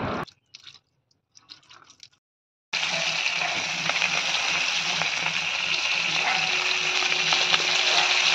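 Fish frying in oil in a pan in a home Bengali kitchen: after a few soft clicks and near-silence, a loud, steady sizzle bursts in and crackles on continuously to the end.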